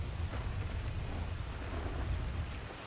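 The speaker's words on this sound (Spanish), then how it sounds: "ahora está lloviendo" Rain pouring steadily with low rumbling thunder in GTA V, a continuous loud wash of rainfall over a deep rolling undertone, no talking.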